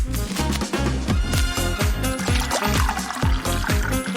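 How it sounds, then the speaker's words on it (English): Liquid resin pours into a small toy tank, a steady trickling splash against a continuous rhythmic beat of background music. "Fill it up with resin."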